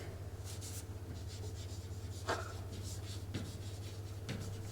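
A teacher writing a name on a classroom board, a few soft scratchy strokes with a short squeak, heard faintly over a constant low electrical hum.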